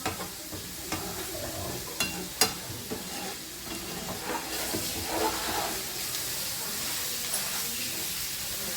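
Beans frying in a little oil in a pan, a steady soft sizzle and hiss with occasional sharp clicks of a spatula stirring, fairly quiet and close.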